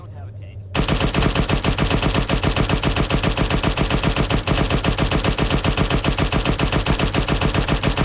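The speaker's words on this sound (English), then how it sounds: "so we're going to fire over their head." Sustained automatic gunfire from Arma 3 combat over enemies' heads, a rapid unbroken stream of loud, evenly spaced shots that bursts in after a brief quiet moment and keeps going to the end.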